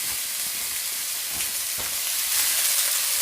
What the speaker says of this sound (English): I'm gonna add my beef strips and mix it all together.